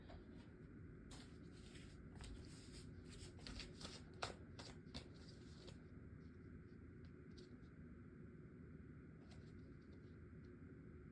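Tarot cards being shuffled by hand during a reading, a soft papery riffle of rapid flicks and slides that comes in bursts through the first half, then thins to occasional light rustles over a steady low background hum.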